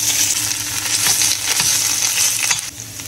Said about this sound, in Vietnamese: giờ tỏi nó vàng rồi nè. Mình sẽ bỏ sốt cà tomat vô.